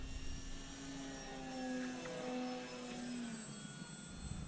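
An Arrows Bigfoot radio-controlled model plane on a morning flight, its engine whining steadily with a shifting tone as it passes, fairly distant and alone.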